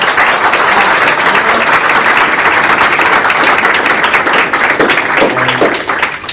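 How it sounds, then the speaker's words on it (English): Loud, sustained applause from a large crowd at a school district board meeting, a continuous wash of clapping that tapers slightly at the very end. "Let's give them a round of applause."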